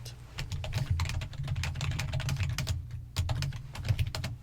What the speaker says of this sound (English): I will be typing extensive notes regarding this interview and your answers.